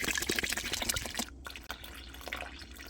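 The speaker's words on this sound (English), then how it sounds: "we add the water." Water is poured in for a foaming bath butter recipe, a close, trickling and dripping splash with small irregular drops, fairly quiet and without talk.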